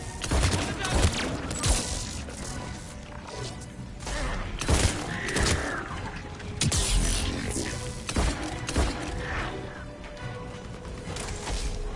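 Gunfire in the video game Mass Effect 3 on Insanity difficulty during the attack on Palaven, rapid bursts of shots and crashing impacts throughout, fairly loud, with occasional speech mixed in.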